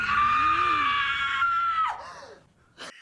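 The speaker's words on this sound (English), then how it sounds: "you get the great scream from Gail" A woman's loud, sustained scream from the character Gail in a Scream 3 horror film scene, rising and holding for nearly two seconds before breaking off, followed by a short sharp sound.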